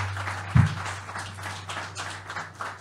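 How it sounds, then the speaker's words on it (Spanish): An audience gives a speaker a dense, diffuse round of applause at an academic research institute event, a soft continuous patter over a steady low electrical hum, with one louder thump near the start. "De nuevo, por favor, un fuerte aplauso para el doctor Samayoa."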